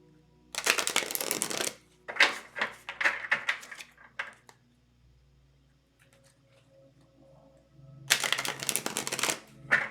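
Thick oracle cards are shuffled in quick riffling bursts, a pause of near silence, then another brisk round of shuffling close by.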